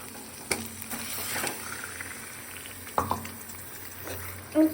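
Chicken pieces dropped into hot oil and spice paste for a kosa curry, sizzling and spitting close up with scattered clatters of stirring over a constant frying hiss.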